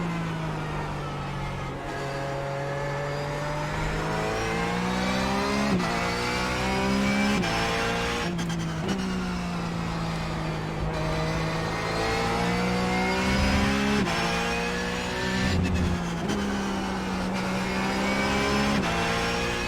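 A Porsche Cup race car in the iRacing sim, its engine revving hard and steadily through the gears, with pitch climbing and dropping at each shift over a sustained, loud drone.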